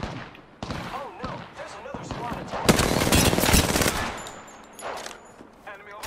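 Rapid bursts of automatic gunfire in the Apex Legends video game, playing as Gibby, ring out loud and close in repeated volleys, with a player talking over the shooting.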